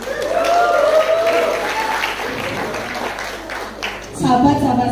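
Crowd applause at a PMII Rembang branch officers' inauguration reception, clapping rising under a voice and music, then a steadier burst of clapping near the end.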